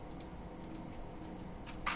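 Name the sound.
key pressed on homemade thermal printer typewriter keyboard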